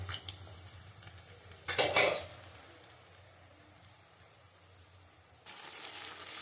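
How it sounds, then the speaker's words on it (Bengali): Fish and potato curry in a wok with a little water added gets stirred, with a burst of metal spoon scraping and clatter early on, then a quiet simmering hiss that swells again at the end. "একটু জল দিয়ে কষাবো।"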